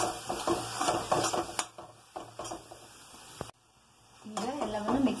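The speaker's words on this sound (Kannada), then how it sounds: "2-3 ನಿಮಿಷ ಮಿಕ್ಸ್ ಮಾಡ್ಕೊಂಡು ಫ್ರೈ ಮಾಡ್ಕೋರಿ." Arbi (taro root) being stirred and fried in a pan with turmeric, chili powder and coriander powder, giving soft scraping and clinking spoon strokes with a light sizzle, with a brief pause before stirring resumes.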